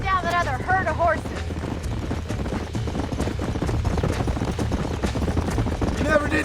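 Horses galloping in the video game Red Dead Redemption, their hooves clip-clopping steadily and fairly close throughout, under background game sound with a brief whinny-like tone near the start.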